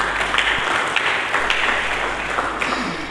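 Scattered clapping from a church congregation, a rough continuous patter with a few sharper individual claps standing out, moderately loud and without voices.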